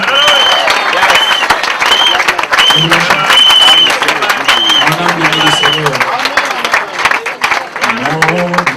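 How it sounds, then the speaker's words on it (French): A church congregation applauds in acclamation of God, steady clapping mixed with singing and a speaking voice that carry throughout, loud and close. "Une acclamation à notre Dieu."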